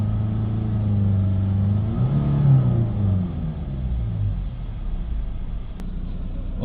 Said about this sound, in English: Now the faults have been cleared, we can get full revs.